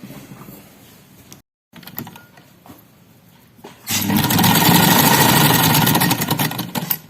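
A sewing machine stitching a belt-style guddi-cut shalwar starts up after a few quiet seconds of handling, then runs as a loud, continuous close-up mechanical whirr for about three seconds.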